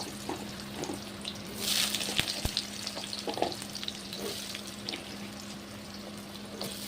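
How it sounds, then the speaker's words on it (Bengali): Small pieces of washed, cut potato frying in mustard oil in a kadai, a close, continuous sizzle with a burst of louder spattering early on and a few stirring clinks. "ছোটো ছোটো করে কেটে রাখা আলু ধুয়ে জল ধরিয়ে নিয়েছিলাম সেটা এবার ভেজে নেব"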